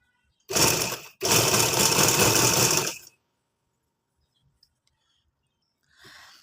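Sewing machine stitching along a pressed crease in fabric, two loud close bursts of running stitches with a short pause between them, then quiet with faint handling noise.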